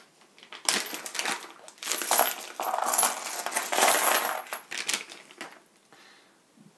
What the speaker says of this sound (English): Let's have a look at these coins.